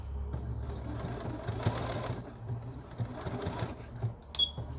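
A sewing machine stitches an apron pocket, running steadily and close up for nearly five seconds with a dense mechanical whir and faint clicks near the end; no one speaks.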